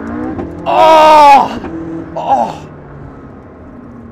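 A McLaren sports car engine in sport mode revs up in a loud, rising blare, then cuts off with a sharp pop between shifts, followed by a shorter second blat, while a voice briefly exclaims.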